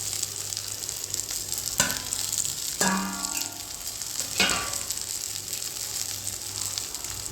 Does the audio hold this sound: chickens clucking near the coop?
no